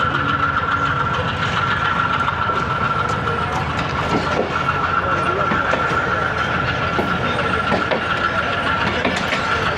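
An Awam Express passenger train pulls out of Mehrabpur station in Pakistan, a loud continuous rumble of wheels and carriages with a steady engine drone, heard from close by, with faint voices underneath.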